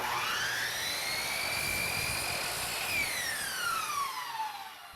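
A miter saw cuts polyurethane baseboard molding at a bevel, its high whine rising as the blade bites in, holding steady, then falling away as the motor spins down, loud and close with no talk.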